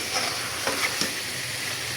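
Shing fish curry, with fish already half fried and boiled, is gently stirred in a pan: a soft continuous sizzle with a couple of brief scraping strokes.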